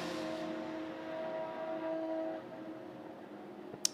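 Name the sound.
Ferrari 488 and Corvette race cars passing at Le Mans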